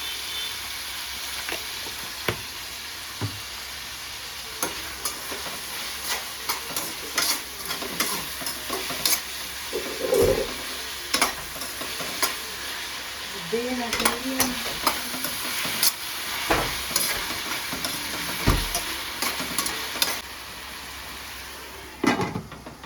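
Onions and tomatoes for vegetable biryani fry in a pan, a steady close sizzle broken by scraping stirs and occasional utensil knocks.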